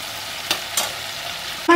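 Chili chicken stirred in a frying pan: steady close sizzle with two soft scrapes of the spoon and a sharper clatter at the end, no voices.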